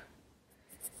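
Light lemon-yellow colored pencil sketching on paper, faint close scratchy strokes in two or three short bursts.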